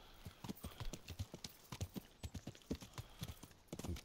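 Horse hooves clip-clop in a steady, close rhythm in the medieval role-playing game Kingdom Come: Deliverance, a run of distinct hoof strikes with no speech over them.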